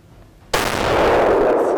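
Single shotgun blast on a hunt in New Mexico, a sudden loud close crack out of quiet followed by a sustained broad roar that holds to the end.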